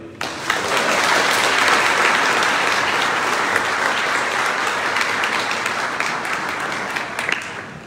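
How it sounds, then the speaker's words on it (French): A church congregation at Sunday Mass applauds the altar servers with a sustained, dense round of clapping that fills the space, starting suddenly and fading slightly near the end. "Certains sont là aujourd'hui, on peut les applaudir."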